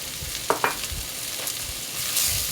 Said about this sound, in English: Continue to saute.